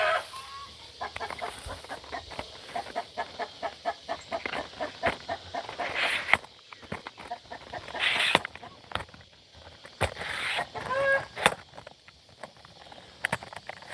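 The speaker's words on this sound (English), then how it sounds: "We have the chicken." Chickens on a farm cluck in irregular bursts, close and fairly faint, with scattered sharp taps and rustling between calls.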